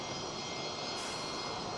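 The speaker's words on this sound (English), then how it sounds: "we can hear the sound, the huge sound of the arrival of another plane which just touched down" A plane's engines roar loud and steady as it lands at an airport, a broad, continuous jet rumble filling the whole short stretch with no voices.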